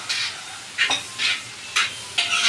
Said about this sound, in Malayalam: ആ വേവിനകത്ത് കിടന്ന് നല്ലോണം ഒന്ന് വഴറ്റിയിട്ട് ആ ഒരു പച്ച മണം മാറുന്ന വരെ നല്ലോണം ഒന്ന് വഴറ്റി കൊടുക്കുക